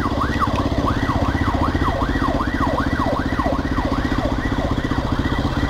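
A loud wailing ambulance siren sweeps up and down repeatedly over a steady rumble of traffic, close by and continuous.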